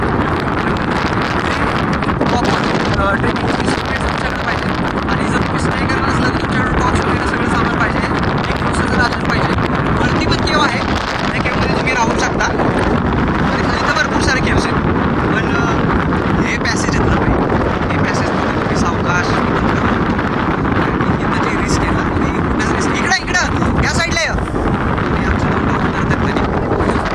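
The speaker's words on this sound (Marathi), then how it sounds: "झुळूक पण ऐकत असाल किती स्पीडनं झुळके वाऱ्याची" Strong wind gusts buffet a microphone on an exposed hill-fort trek at Chanderi fort, a loud, rough roar and rumble that keeps surging throughout.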